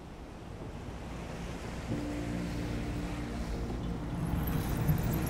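Ocean waves washing ashore at the sea at sunrise, a steady broadband roar of surf with wind noise on the microphone, swelling slightly louder toward the end.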